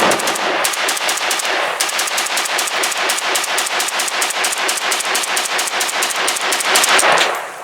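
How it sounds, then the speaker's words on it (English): A Chinese milled MAK-90 Kalashnikov rifle fired at an outdoor range, a loud, close, rapid string of sharp reports in even rhythm lasting about seven seconds, dense and sustained with no talking. "Alright, Jay, you can shoot the Chinese now. MAK-90."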